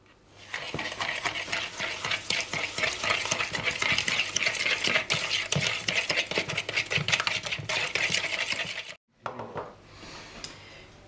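Butter and sugar being stirred together in a bowl for a frangipane filling, a steady scraping and clinking of utensil against the bowl, close and continuous, with a brief pause near the end.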